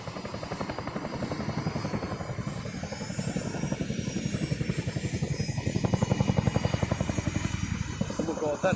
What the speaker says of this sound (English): Oh my god, that sound of the helicopter.